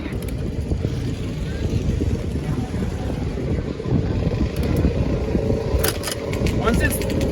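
A Honda CR500 two-stroke motocross bike fitted with a Pro Circuit exhaust pipe runs at a steady, loud roar after a cold start, with voices faintly mixed into the continuous engine noise.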